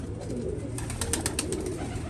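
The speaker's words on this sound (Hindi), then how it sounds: "ये देखिए कैसी ज़बरदस्त कबूतरी" A female pigeon cooing at close range, soft low murmuring coos under a noisy background with a few brighter chirps midway; no talk is heard.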